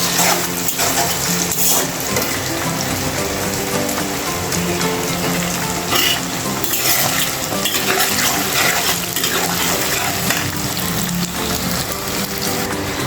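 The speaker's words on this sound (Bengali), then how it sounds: "তো আমি এখন ভালো করে ভাজতেছি" Paneer and pointed gourd frying in a pan for a paneer curry make a steady, crackling sizzle like light rain, running continuously and close with no talking.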